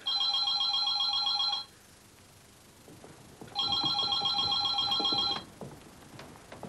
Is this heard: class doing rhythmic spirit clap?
no